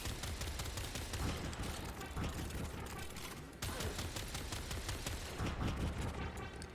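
Rapid automatic weapon fire from a Warframe game weapon, dense, continuous bursts running the whole stretch, loud and close with little pause.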